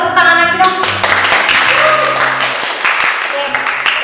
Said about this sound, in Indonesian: Ya, kita tepuk tangan lagi dong.